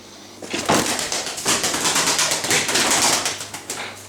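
Rustling and fluttering noises with soft bird sounds, an Arab pigeon's wings flapping close by in a series of bursts, no speech.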